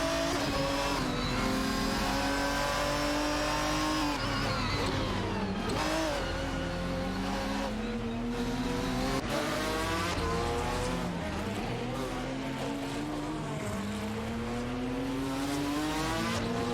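Race cars in the Live for Speed racing video game overtaking on track in an AI race, engines revving and climbing through gears with wavering pitch, tire squeal and cars sweeping past, loud and continuous.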